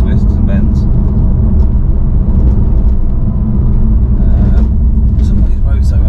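A car's engine and road noise heard from inside on a twisty road with awful surfaces, a steady loud rumble and whir throughout, with someone talking over it.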